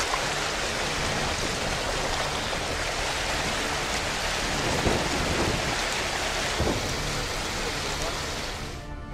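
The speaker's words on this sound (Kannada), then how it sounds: "ಮಹಾರಾಷ್ಟ್ರದ ಘಟ್ಟ ಪ್ರದೇಶದಲ್ಲಿ ಧಾರಾಕಾರ ಮಳೆಯಾಗ್ತಿದ್ದು" Heavy monsoon rain pours down over the ghat region of Maharashtra, a dense continuous roar with occasional low rumbles like distant thunder, steady and loud throughout.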